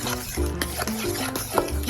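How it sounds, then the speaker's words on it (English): A spoon stirs vanilla into banana nut bread batter in a bowl, the loud, close strokes coming in an uneven rhythm with soft, wet scraping and small knocks against the bowl. "Go ahead and stir that in."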